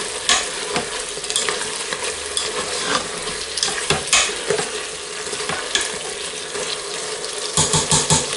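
Sofrito with ñora pepper frying in a pan while being stirred, a constant bright sizzle with repeated scraping and clacking of the spoon, close and loud, with no voices.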